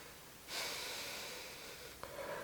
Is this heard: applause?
no